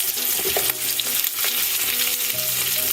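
Lemongrass fries in a Thai Lao pot for curry with a dense, close sizzle. A few soft knocks of stirring sound over the frying.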